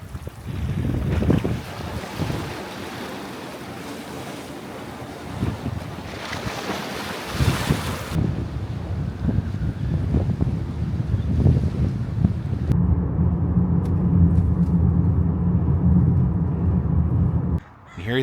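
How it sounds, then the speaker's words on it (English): Ocean waves breaking on a rocky shore under heavy wind buffeting the microphone, a loud continuous roar with surging swells and no talking. "I'm being really careful because the ocean is indeed very dangerous."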